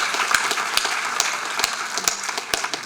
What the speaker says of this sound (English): Yeah, we should applaud